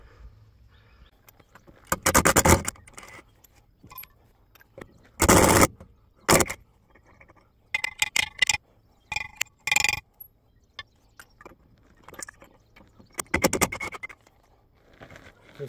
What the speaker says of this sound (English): So let's go ahead and get this wheel off.